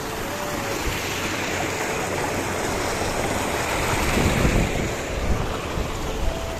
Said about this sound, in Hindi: यहाँ पे देख सकते हैं बहुत ज़्यादा पानी आ रहा है नाले में